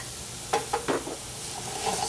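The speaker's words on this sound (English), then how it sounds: "I'm gonna go ahead and add the rice to it" Rice is stirred into browned beef and softened vegetables in a hot pan in a restaurant kitchen, a few scraping spoon strokes over a steady, close sizzle.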